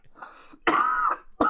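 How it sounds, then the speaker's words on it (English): Harsh throat clearing and coughing after blowing an Aztec death whistle, made of two or three rough close bursts in quick succession. "Sorry, I'm coughing."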